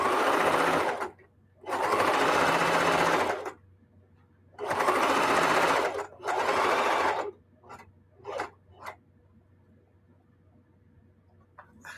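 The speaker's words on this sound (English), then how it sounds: "I'm sewing this and I'm making a very wide seam" Sewing machine stitching a wide decorative seam through the three layers of a quilted jelly roll placemat. Loud, close whirring comes in two pairs of bursts a few seconds long, then a few brief taps and near quiet.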